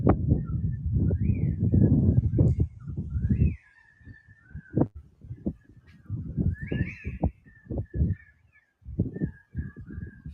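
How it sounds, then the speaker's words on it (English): Birds sing outdoors during a windy storm, their repeated high chirps and warbles carrying over heavy wind gusts that roar at first and then ease into choppier rumbles. "Can you hear the birds?"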